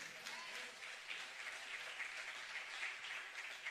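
Applause from a church congregation during a Spanish-language Sunday service, a steady wash of many hands clapping throughout with faint voices mixed in, moderately quiet and even.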